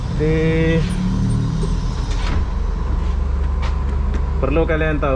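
A city bus engine in Kuching, Sarawak, Malaysia drones low and steady throughout, with cabin rattles and clicks, while people chat briefly at the start and end.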